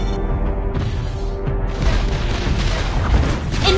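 A turret blows up in a video game with a deep, rumbling boom over busy game sound effects, the blast sustained and loud for several seconds with sharp thumps near the end.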